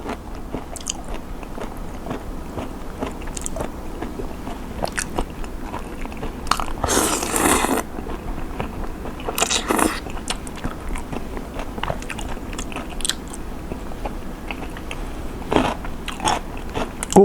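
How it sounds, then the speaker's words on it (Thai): Close, crisp crunching of raw shrimp being chewed, with repeated bites and a few louder crackly bursts between softer mouth sounds. "เสียงกุ้งเด้งมากกรุบกรุบกรุบ"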